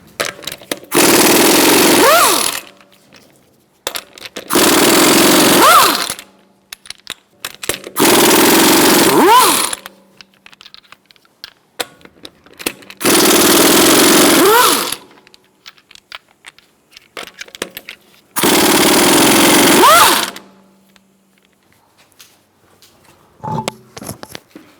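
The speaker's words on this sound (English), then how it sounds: "Using a 19mm socket, we're going to remove our wheel." A power tool fitted with a 19mm socket removes a wheel from a 2012-2018 Ford Focus 2.0L, firing five loud, separate bursts of about two seconds each with short quiet gaps between them, plus a little clatter at the end.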